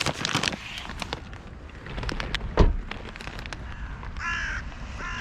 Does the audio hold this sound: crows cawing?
yes